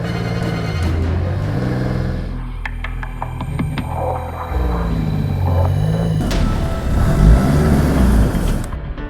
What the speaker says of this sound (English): the van with the psychics slows down, and its wheels start skidding